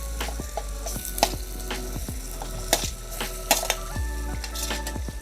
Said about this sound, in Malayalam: അതിനുശേഷം നമ്മൾ ഫ്രൈ ചെയ്ത് വെച്ച നമ്മുടെ ചിക്കനും കൂടി ഇതിലേക്ക് നമുക്ക് ആഡ് ചെയ്ത് കൊടുക്കാം.